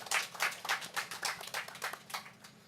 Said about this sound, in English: Let's give the European Union a round of applause.